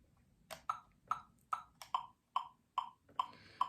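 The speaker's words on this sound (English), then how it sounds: "I got the metronome here. I got the dial at 144" A metronome clicks steadily at 144 BPM, sharp bright ticks evenly spaced and close by, with a faint background hum and no talking.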